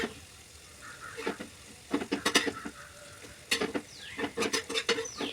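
Diced potatoes fry on a low flame in a pan while a spatula stirs them, producing a soft continuous sizzle broken by clustered scraping and tapping strokes, close and fairly quiet, with no voices.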